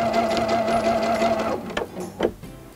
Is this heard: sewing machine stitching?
yes